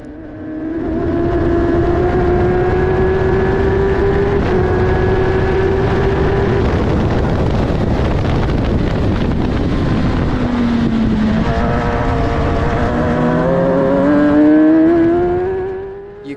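A racing car engine revs high and loud, its pitch rising and dipping as it passes close, with wind rushing over the microphone.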